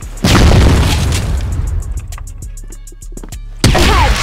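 A grenade goes off in the shooter game CrossFire with a loud, deep boom that decays into rumbling debris and scattered clicks before a second sharp burst near the end.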